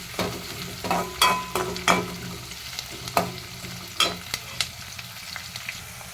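Slit green chillies fry in a pan, a soft steady sizzle broken by sharp scraping stirs of the spatula at irregular intervals, close by with no one talking.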